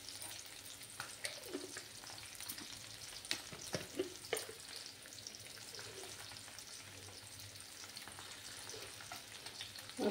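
Pabda fish fries in a pan of hot oil in a home kitchen, a steady close sizzle with scattered crackles and pops throughout, no voices.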